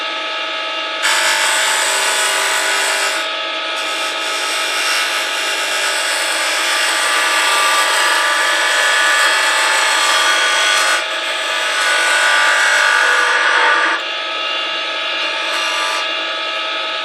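Wood is turned down on a lathe to size a driver for a marble spinning top, making a loud, continuous scraping whir that shifts in tone a few times as the cut changes, with no talk.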